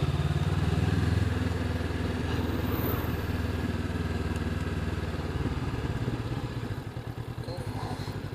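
A Honda CB500X motorcycle engine rumbles steadily at close range with a loud, throaty exhaust note that pulses unevenly throughout, with no talk over it.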